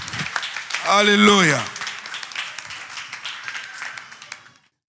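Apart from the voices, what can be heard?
church congregation applauding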